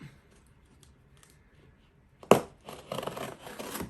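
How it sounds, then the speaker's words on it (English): A blade makes a diagonal cut at the top of a package, one sharp snap after a quiet stretch, then a few seconds of close scraping and rustling. "I'll make a diagonal cut at the top"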